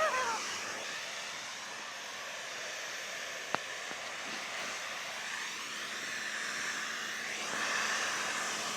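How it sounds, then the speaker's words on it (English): A hairdryer blows steadily on a piece of furniture being restored, a continuous airy whoosh holding at a fairly even level, with a brief sharp tap partway through and a slight swell near the end. "I was going to let you hit this with the hairdryer."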